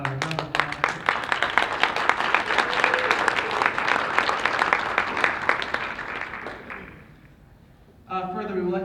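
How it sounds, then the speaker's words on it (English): Applause from a national congress youth gathering, crisp claps building into full crowd clapping for several seconds, then tapering to quiet before a speaker resumes talking. "Can we give them both a round of applause?"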